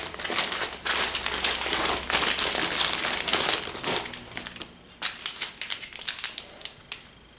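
Military freeze-dried ration packet of plastic being torn open and handled, giving a run of close, loud crinkling and crackling, dense at first, then breaking into sharper separate rustles and snaps toward the end.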